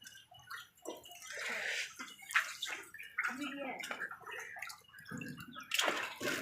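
Floodwater inside a flooded home, water sloshing and gurgling at close range under a person talking.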